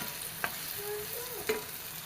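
Onion fried in oil in a pan for a jackfruit masala curry, a steady soft sizzle with a couple of sharp utensil knocks and stirring scrapes, close and without talk.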